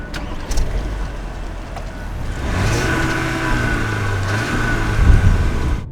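A 2022 Audi A4 with a 2-liter turbocharged inline-4 drives along the road, its steady engine drone and tire noise rising in a smooth acceleration midway, with no talk.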